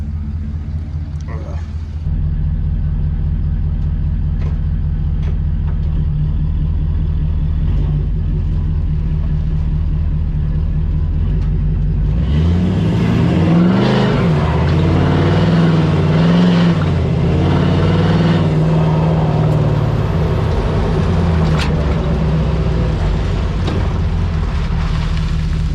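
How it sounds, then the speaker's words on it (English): A vehicle fitted with new shocks drives on dirt roads, its engine a steady close drone that swells into revving acceleration partway through, with rumbling from the rough surface. "let's go drive on some more dirt roads"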